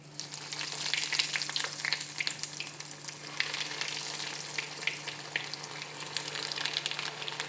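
Aloo chop potato croquettes frying in hot oil, a steady close sizzle with dense crackling pops and a low constant hum underneath, fairly quiet and with no talk.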